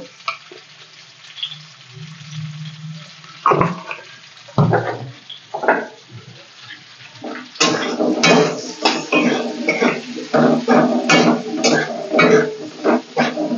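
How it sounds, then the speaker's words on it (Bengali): Cut potatoes seasoned with salt and turmeric frying and being stirred in a pan for a Bengali ridge gourd and fish curry, with steady sizzling and intermittent scraping clatter, loud and close, no talking. "আলুর মধ্যে একটু লবণ হলুদ দেবো, দিয়ে ভালো করে ভেজে নেব আলুগুলোকে।"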